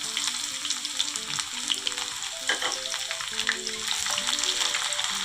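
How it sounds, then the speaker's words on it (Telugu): Sliced medium onions frying in oil for vegetable biryani, a steady dense sizzle with crackling pops that runs the whole time, close and fairly loud, with faint stirring and no voices. "ఇప్పుడు ఈ ఆయిల్లోనే మనం బిర్యానీ కోసం కావాల్సిన ఆనియన్ ఫ్రై చేసుకుందాం."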